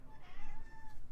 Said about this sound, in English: Despy, can I get a meow?